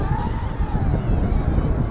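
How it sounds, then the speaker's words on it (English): Steady roaring storm wind buffets the microphone throughout, a dense low rumble with surging gusts and no pauses, during a small Hubsan H122D drone flight. "you can see the gusts of the wind,"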